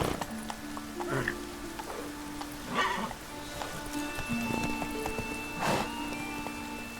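Roach, the horse in The Witcher 3, gallops with repeated hoofbeats and a few whinnies over a sustained musical drone and soft rain-like patter, fairly close and steady in loudness.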